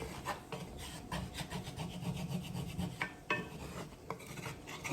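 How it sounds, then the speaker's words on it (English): Steady rough rubbing and scraping of a scrubber against a pan, repeated back-and-forth strokes close by with a few sharper scrapes. "That's how I clean my pans."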